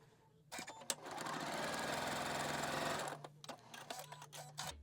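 A sewing machine stitches quilt pieces for a tulip block in one steady run of about two seconds, a close, even mechanical whir that then gives way to clicks and handling noises.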